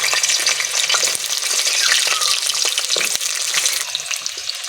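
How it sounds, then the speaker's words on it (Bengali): Pieces of pointed gourd frying in hot white cooking oil in a wok, a steady dense sizzle with crackling spatters and occasional stirring scrapes, close and continuous throughout. "তেল গরম হয়ে গেছে পটলগুলো দিয়ে দিচ্ছি প্রথমে পটলগুলো ভেজে নেবো"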